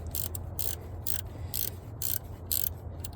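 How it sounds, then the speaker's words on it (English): Gear wrench ratcheting on an alternator mounting bolt during installation, a run of short, crisp clicking bursts at an even rhythm, close by and clear with no voices. "Having a gear wrench is handy for this."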